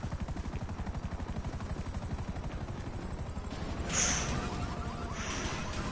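Helicopter in the video game GTA 5 Online, a steady rapid rotor chop throughout, loud and close, with a brief whooshing swell near the middle.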